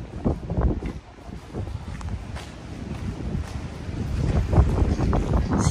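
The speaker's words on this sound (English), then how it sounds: "Oh, it's so windy. That wind just came up." Gusty wind buffeting the microphone outdoors in Satriano, Calabria, rumbling and swelling in uneven bursts, with no talking.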